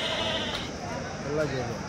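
Sheep bleating nearby at a weekly sheep market in Kadiri, a few wavering calls heard under and between people talking.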